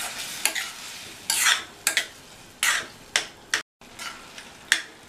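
Tomato and moong dal kootu stirred in a pan, with several separate scraping strokes of a spoon over a soft sizzle, close by, with no talking and one brief gap of silence.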